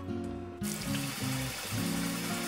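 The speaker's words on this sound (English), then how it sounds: "we have to get some water and put it in." Water pours in a steady, gushing stream into a container, running continuously at close range.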